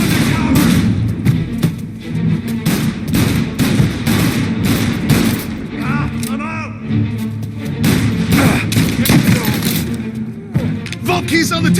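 Loud gunfire in the Mafia Definitive Edition video game, dense bursts of shots and booming impacts throughout, layered with shouting voices and cinematic sound.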